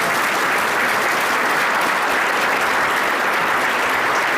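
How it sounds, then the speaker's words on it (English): Sustained audience applause for Secretary Howe and Mark Melnick at an economic forecast event, a dense, steady wash of clapping that holds evenly from start to finish with no voices over it. "keep that round of applause going for Secretary Howe and Mark Melnick"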